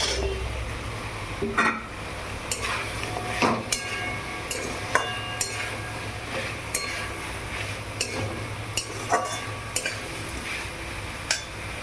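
Moringa drumsticks frying in a mustard and poppy-seed spice paste in a pan, with a steady low sizzle and a spatula scraping and clinking against the metal at irregular intervals, with no one talking.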